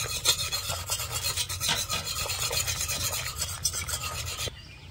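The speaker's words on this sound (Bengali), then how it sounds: "গ্যাসের আঁচটা একদম হালকা রেখে ভালো করে মিশিয়ে নেব" Milk powder being whisked into syrup in a pan over a very low gas flame, a steady close scraping and rubbing that runs continuously without pause, then cuts off abruptly near the end.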